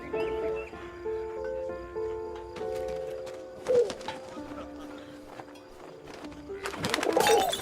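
Soft throaty cooing of a pigeon in the video game 11-11 Memories Retold, a few low warbling calls over a busy background of tonal game sounds, with a louder rustling burst near the end.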